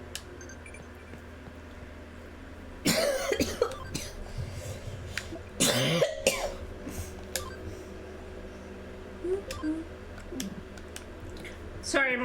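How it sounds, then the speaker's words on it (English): A person coughs in two loud, harsh bursts a few seconds apart, with small clicks and faint background sounds between them. "Sorry, I'm coughing lots."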